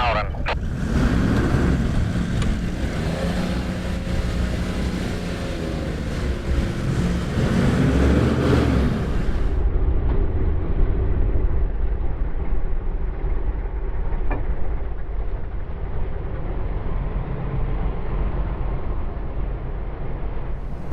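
A 4x4 pulls off during a snatch strap recovery, a loud rumbling engine and churning drivetrain noise for about ten seconds, then a duller, lower rumble continuing outdoors under wind.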